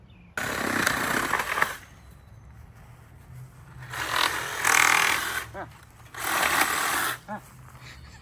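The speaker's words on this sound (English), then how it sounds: "We're gonna need like a sawzall" A reciprocating saw cuts through material in three separate bursts of rough, buzzing rasping, each lasting about a second, with quiet pauses between them.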